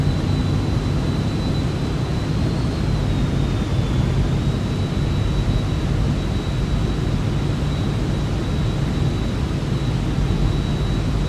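FlightFX Vision Jet in Microsoft Flight Simulator cruising toward an airport under a cloud deck, a constant loud engine rush and wind noise with a thin steady high tone running throughout.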